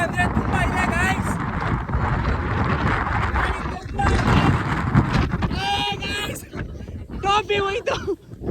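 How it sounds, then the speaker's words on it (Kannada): Strong gusting wind on a hilltop at Devarayanadurga roars into the microphone almost throughout, with people talking over it and a lull near the end. "ಗಾಳಿ ತುಂಬ ಅಂದರೆ ತುಂಬ ಇದೆ ಗೈಸ್"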